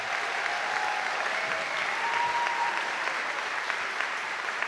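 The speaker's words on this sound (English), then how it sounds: "Let's give them a big round of applause to start it today." A large crowd applauds graduates at a spring graduation ceremony, a broad, sustained roar of clapping with occasional cheers filling the hall, even and continuous throughout.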